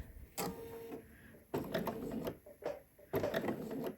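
A sewing machine stitches dress fabric in three separate runs of steady mechanical whirring, each lasting about a second, separated by brief pauses.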